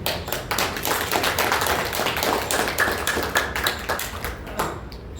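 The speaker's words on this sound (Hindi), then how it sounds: "देख रहे हो तो ताली बजा दो।" A group of people in a yoga class clap their hands together in quick, steady, continuous applause-like claps, close and fairly loud throughout.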